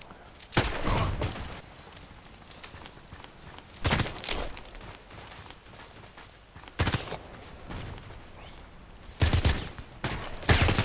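Loud gunfire in the online shooter Contract Wars, several sharp bursts of shots spaced a few seconds apart over a low game ambience.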